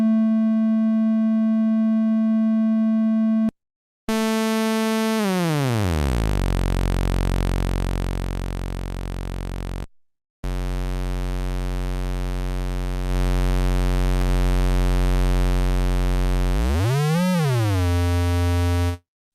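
Synthesizer oscillator stepping through different waveform outputs: a steady pure tone, then buzzy harmonic-rich waves with pitch sweeps gliding down and back up, separated by brief silent gaps, loud and close.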